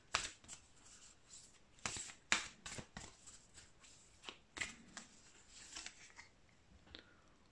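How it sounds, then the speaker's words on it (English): A deck of Moonology oracle cards being shuffled by hand, giving a series of crisp, irregular riffling and snapping bursts up close, with quiet pauses in between and no talking. "Let's pull some moon cards. Moonology oracle cards."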